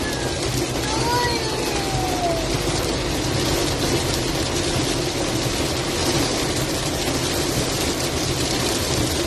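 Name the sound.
rain falling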